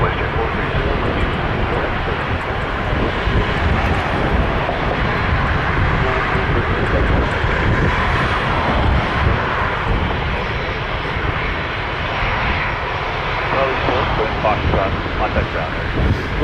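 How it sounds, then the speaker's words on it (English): A WestJet Boeing 737-700 airliner arriving from Edmonton passes directly overhead near Toronto Pearson, a loud, continuous broadband jet roar close by. "WestJet 430-737-700 about to fly directly over my head."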